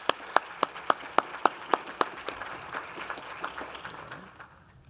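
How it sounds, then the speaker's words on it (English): An audience applauds a community panel at a research exchange event, starting with a few sharp individual claps that quickly blend into steady moderate clapping, then tapering off over a few seconds. "please join me in giving our community panel another round of applause."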